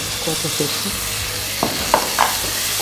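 Apples stewing in a pan on a cooking show give a steady sizzle, with a few sharper utensil scrapes and taps near the end.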